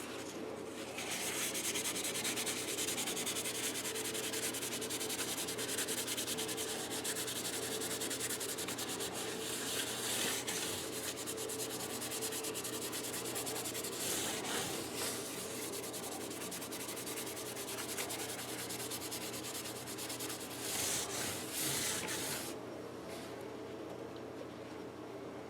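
Steady close rubbing of Minwax tung oil into a bare, scraped guitar fretboard on a USA PRS guitar, a continuous soft friction with slight swells and no talk.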